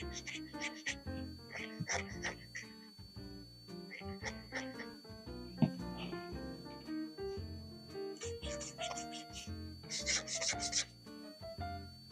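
A pencil scratches loose, scribbly circles into a sketchbook, making dry, close, rhythmic scratching strokes in repeated short bursts with brief pauses between them.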